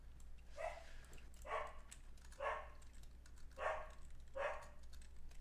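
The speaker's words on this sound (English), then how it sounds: "Sorry about my dogs." Several dogs bark at a distance in a steady series of five sharp barks, roughly one per second, over a low background hum.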